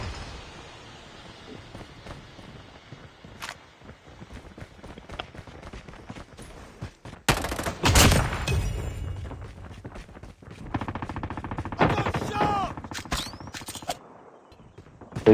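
Gunfire rings out in a first-person shooter video game: scattered single shots are followed by loud rapid bursts of automatic fire in the middle and later on, with quieter game sounds in between.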